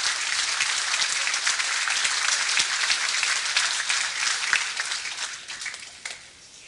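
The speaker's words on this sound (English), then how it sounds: "How about a collective round of applause for all 8 of our newest members" A crowd at a hall of fame induction banquet applauds steadily with dense clapping throughout, tapering off slightly at the end.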